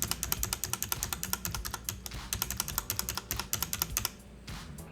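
Fast typing on a Royal Kludge RK61 2020 budget mechanical keyboard with rattly stabilizers. Dense clacky keystrokes come close and clear in quick bursts, with a few short pauses and heavier thocks mixed in.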